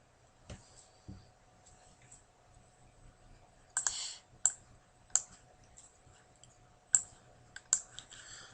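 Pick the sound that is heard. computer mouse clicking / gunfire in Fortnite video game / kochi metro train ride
computer mouse clicking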